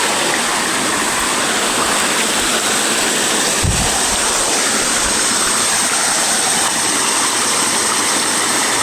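A flowing stream rushes in a constant, loud, broadband wash with no break, with one brief low thump partway through and no voices.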